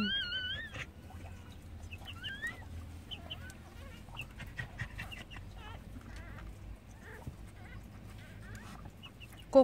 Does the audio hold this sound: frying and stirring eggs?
no